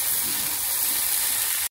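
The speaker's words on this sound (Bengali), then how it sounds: "যে এভাবে ভেজে নিচ্ছি। এর মধ্যে কালো জিরে ফোড়ন দিয়েছি।" Nigella seeds tempering in hot oil while food fries, a steady, close hiss of sizzling that stays even throughout and then stops abruptly.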